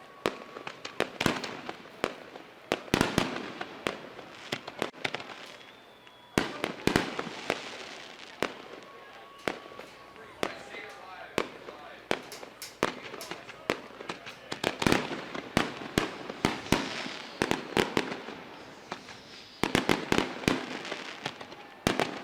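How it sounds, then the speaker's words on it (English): Repeated sharp fireworks bursts crackle and boom at a dirt track race night, dense and irregular throughout with brief quieter gaps, fairly close and loud. "Fireworks continuing to go off in the background."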